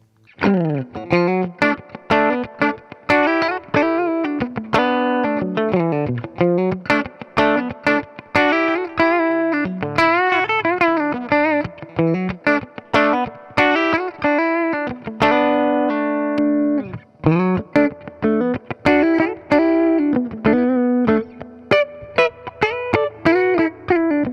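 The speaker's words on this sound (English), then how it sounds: "this guitar plugged into a deluxe reverb sounds pretty similar" Electric guitar, a Fender American Luxe Vintage Telecaster through a Deluxe Reverb tube amp, with a warm, slightly overdriven tone and reverb, chords and picked notes played continuously with steady strums and short pauses.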